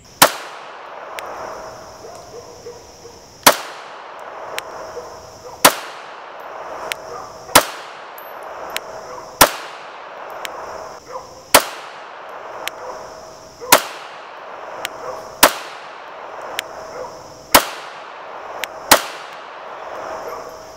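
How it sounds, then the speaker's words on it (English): Shots from a Grand Power Q100 striker-fired pistol at a range: about ten loud, sharp reports spaced roughly two seconds apart, each ringing off briefly, with no talking between them. "We shot a lot of rounds through that pistol."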